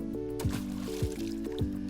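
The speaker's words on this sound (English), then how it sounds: "water effect there. He's floating on the water, don't take that for granted." Water in a Dreams creation on PS4 gives soft, wet plopping splashes, three evenly spaced squishy drops over a looping tonal background.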